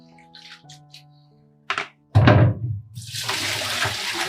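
Sliced potatoes are stirred and rinsed in a bowl of water for crispy fried snacks, a couple of knocks followed by a burst of sloshing, splashing water, close and fairly loud.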